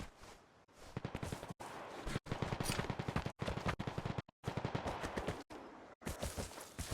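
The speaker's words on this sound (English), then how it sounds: "It sounded like a carbine that was getting shot" Bursts of carbine fire in a tactical shooter video game, loud, dense rapid volleys in several separate strings with short silent breaks between them across the whole stretch.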